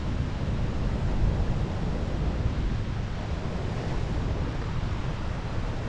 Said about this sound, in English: It literally is just an ocean waterfall.